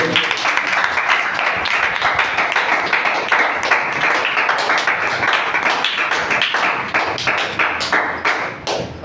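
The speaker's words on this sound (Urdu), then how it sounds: "یسوع کے جلال کے لیے زوردار تالیاں بجائیں" A church congregation applauds loudly, dense continuous clapping from many hands filling the room, holding strong throughout and thinning slightly at the very end.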